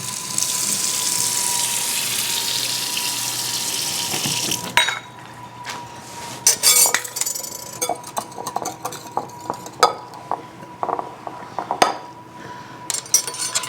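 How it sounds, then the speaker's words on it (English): Water runs from a tap for about five seconds, steady and close, then gives way to scattered clinks and knocks of dishes and utensils as half a cup of water goes into powdered eggs for breakfast burritos. "So I'm also going to add a half a cup of water."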